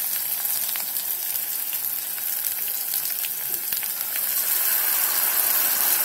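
Tomato puree added to frying onion masala in a kadhai for spiced cauliflower, a dense continuous hiss of sizzling oil, close and even throughout with faint stirring clicks.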